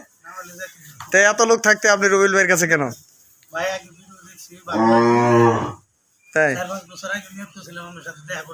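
Village cattle, local cows and Sahiwal bulls, low repeatedly in long, loud, close moos, with short pauses between calls and one deep, drawn-out bellow in the middle.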